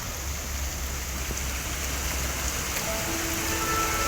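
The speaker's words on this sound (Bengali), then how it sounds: "মনে হয় জোর বৃষ্টি হবে, ভালো বৃষ্টি হচ্ছে তো" Heavy rain pours down in a dense, steady roar of drops on surfaces, loud and unbroken from start to finish with no one speaking.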